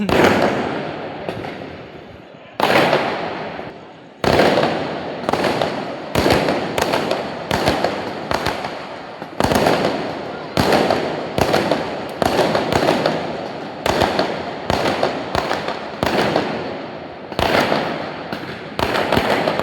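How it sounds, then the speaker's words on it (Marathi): Firecrackers burst in a housing society in a long rapid string of sharp loud bangs, each crackling and echoing, with brief gaps between volleys. "फटाके फोडतात बघा सोसायटीमध्ये"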